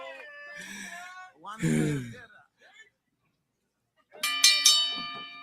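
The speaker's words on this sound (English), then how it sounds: "referee AJ calls for the bell." A wrestling match bell rings after the referee's call at a gym event, several quick bright clangs near the end, following voices talking and a brief gasp.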